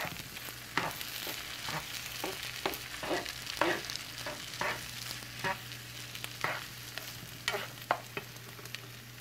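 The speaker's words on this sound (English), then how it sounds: "Make sure you continue to stir the eggs and the potatoes with the meat" Scrambled eggs, potatoes and meat sizzle in a pan while a utensil stirs and scrapes through them, giving a soft continuous frying hiss punctuated by regular scraping strokes, close and fairly quiet.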